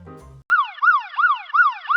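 A wailing ambulance-style siren stands in for Spider-Man's spider sense going off, loud and close, its rising-and-falling sweeps repeating several times in steady rhythm after a brief low rumble.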